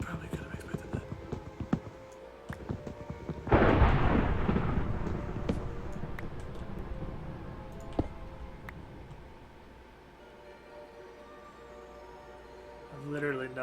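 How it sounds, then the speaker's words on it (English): Thunder rumbling, a deep roll that swells suddenly and fades slowly over several seconds behind soft whispery talk and scattered small ticks. "I've literally no idea how I can hear that thunder."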